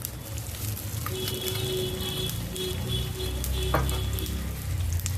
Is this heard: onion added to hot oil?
yes